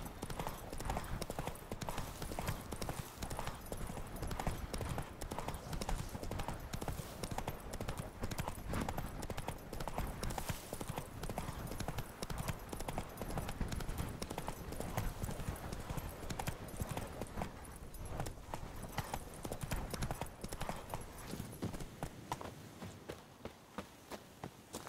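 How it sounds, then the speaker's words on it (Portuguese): A horse's hooves clip-clop at a steady walking rhythm in The Witcher 3: Blood and Wine, continuous and fairly close for most of the stretch before thinning out near the end. "Ei, o cavalo sai do lugar."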